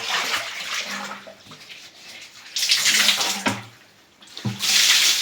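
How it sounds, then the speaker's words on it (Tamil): Water poured into a bucket during tile cleaning, rushing and splashing in bursts that stop and restart, loud and close with brief quieter gaps between pours. "இப்போ நான் தண்ணியை ஊற்றிட்டு"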